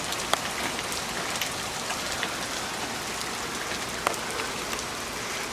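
Heavy rain pours steadily on outdoor surfaces, a dense continuous wash with a few louder, distinct raindrop hits near and clear, no voices.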